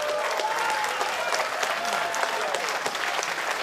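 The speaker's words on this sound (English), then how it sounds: "Crowd cheering on the brutality we are witnessing before us here." A live wrestling event crowd in Perth claps and cheers, a steady wash of applause and shouting with a few whistles, sustained and fairly loud across the whole stretch.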